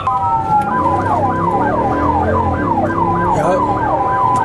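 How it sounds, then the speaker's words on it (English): A car siren yelps in a fast repeating rise-and-fall over the rumble of a moving vehicle, loud and close throughout. "Once we get close, I'll turn on the sirens, okay?"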